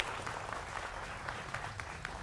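Applause from a studio audience of young people at a televised political debate, dense steady clapping throughout the short stretch.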